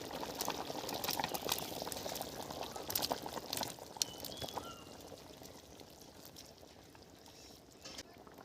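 Jackfruit curry broth boiling in a pan, a close, steady bubbling and gurgling with occasional clinks and stirring sounds, louder at first and settling to a softer simmer.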